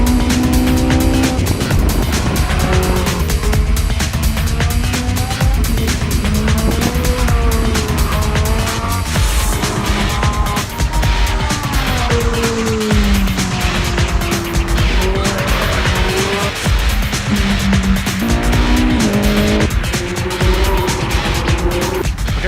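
Ferrari 458 with a naturally aspirated V8 driven fast on a track, engine loud and constant, pitch climbing and dropping through gear changes, with repeated tire squeal through corners.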